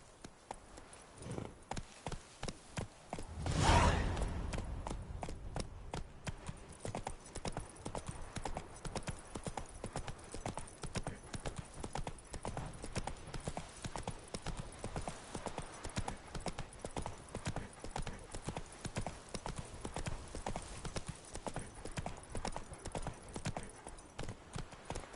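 A horse trots in The Witcher 3 with steady, evenly paced hoofbeats that continue throughout, and a louder burst near the start that may be a snort or whinny.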